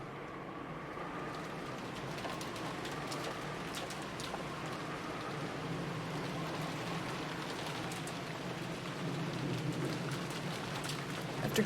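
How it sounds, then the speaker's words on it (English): Steady rain falling on surfaces, a dense even patter across the whole stretch with no voices, forming a continuous wet backdrop. "disappeared beneath the sound of the rain"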